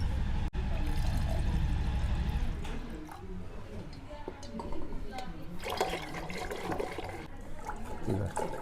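Water is poured into curd in a vessel and churned to make butter. A steady loud pouring rush comes first, then softer sloshing and churning splashes continue close by while a person talks.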